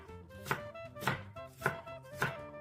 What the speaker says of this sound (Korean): 사과도 피망과 비슷하게 다져주세요.